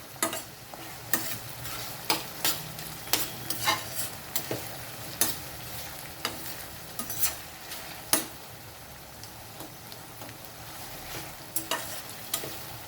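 Bitter gourd fries uncovered in a pan over a fairly high flame, a soft continuous sizzle punctuated by frequent sharp ticks and spatula clacks at an irregular rhythm, with no talking.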